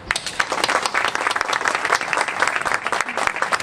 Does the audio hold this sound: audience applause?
yes